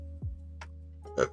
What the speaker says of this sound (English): I'm sorry for burping.